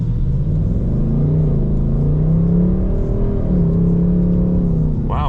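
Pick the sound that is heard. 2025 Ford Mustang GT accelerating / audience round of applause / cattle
2025 Ford Mustang GT accelerating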